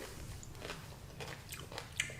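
Celery being bitten and chewed up close during a noodle mukbang, faint wet crunches repeating in a loose rhythm.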